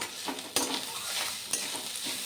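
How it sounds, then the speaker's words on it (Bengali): Grated coconut frying and being stirred in a pan for Bengali-style moong dal, with a steady sizzle and two sharp stirring scrapes, close and moderately loud, no talking. "নারকেলটাও একটু ভেজে দেবো"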